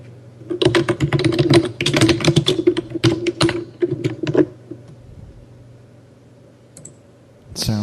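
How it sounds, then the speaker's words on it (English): Fingers clatter rapidly on a Lenovo computer keyboard in quick irregular bursts of close clicks, which then fade to near silence before a brief noise at the end. "It sounds like a Logitech keyboard. No, it's Lenovo."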